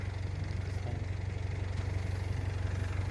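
A nearby car engine idling steadily, a low, even rumble with a faint rhythmic pulse that holds constant and close, with no talking over it.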